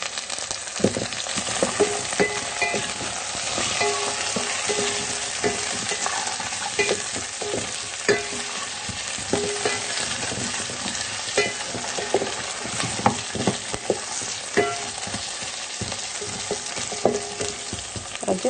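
Potatoes fry in a pan for sardine curry, giving a continuous close sizzle and crackle with frequent scraping and stirring clatter throughout, no voices heard.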